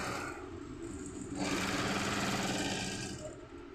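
A sewing machine runs steadily while stitching Chanderi cloth for a kurti, a fast even whirring hum that speeds up midway and then eases off, with no voices.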